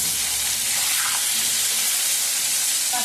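Potatoes frying in hot oil in an iron kadai, a dense, steady sizzle held at close range and even loudness for the whole stretch, with no talking.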